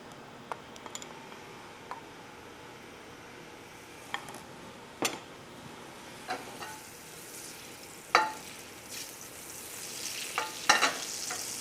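Pancetta browning in a mix of oil and butter in a pan, a quiet steady sizzle broken by occasional utensil ticks and scrapes, a louder clatter near the end.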